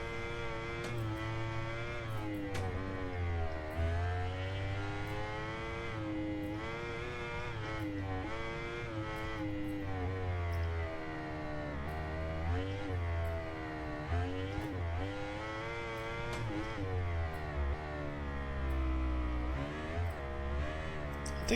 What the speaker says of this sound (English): those are cars, this is a motorcycle